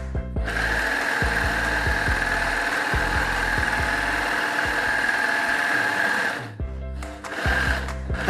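A Zetina 325 home 3-4 thread overlock machine, fitted with a fine stitch finger, stitches fabric in a steady close whir for about six seconds, pauses briefly, then starts up again.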